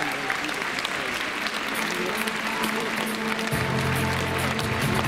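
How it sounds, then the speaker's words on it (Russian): An audience at a figure skating exhibition show applauds steadily throughout, with dense clapping that swells slightly toward the end. "Аплодисменты, юбилейные аплодисменты нашим бронзовым призерам."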